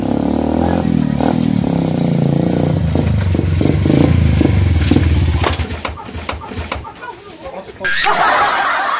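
Motorcycle engine runs nearby with a low, steady drone that revs and fades, while voices chatter and laugh over it and a clattering noise breaks in near the end.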